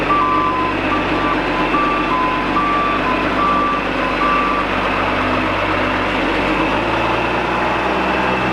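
A backhoe backs up with a steady, repeating reversing beep over a constant, loud diesel engine drone, with no talking.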